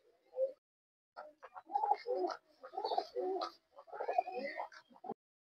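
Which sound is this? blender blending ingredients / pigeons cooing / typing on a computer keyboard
pigeons cooing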